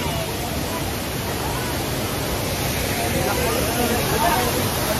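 Pinlac Falls waterfall roaring as a steady, loud broadband rush that fills the whole stretch, with faint voices of people blended into the constant water noise.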